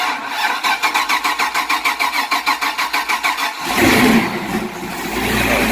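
A supercharged Mercruiser boat engine, Bravo XR drive on a Hustler 388, cranks with a rapid rhythmic starter chug for several seconds, then fires and roars loudly into a rough, steady idle.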